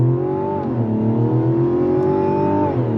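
A 2024 Mazda CX-90 in sport mode pulls away hard from a stop through its 8-speed automatic, its steady, loud engine drone climbing in pitch, heard close from inside the cabin.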